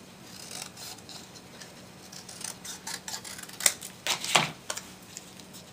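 Scissors cutting: small, sharp snips that start sparse and faint, then come closer and crisper in a quick irregular cluster toward the end, alone with no talk.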